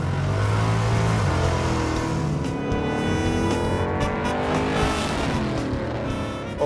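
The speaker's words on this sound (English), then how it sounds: "when you put your foot down, a lot of speed happens, along with a lot of noise" A 1938 Chevy Grand Master business coupe fitted with a supercharged Chevrolet 350 V8 accelerates hard, a loud, close, roaring engine whose pitch climbs steadily as it revs up through the gears.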